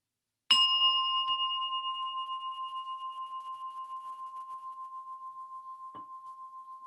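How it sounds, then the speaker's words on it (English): A single morning worship bell struck once in a church service, a clear ringing tone that sustains and slowly fades with a gentle pulsing shimmer, a faint tap near the end. "Let us enter into the spirit of worship with the sounding of our morning bell."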